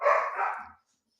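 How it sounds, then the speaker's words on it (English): A single short burst of barking from dogs, close and fairly loud, then quiet. "The dogs are going nuts."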